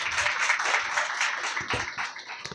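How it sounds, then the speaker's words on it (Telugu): A congregation at a Telugu Christian church service claps together in a dense, continuous wash of applause that holds steady and fairly loud throughout. "గట్టిగా చప్పట్లు కొడదామా?"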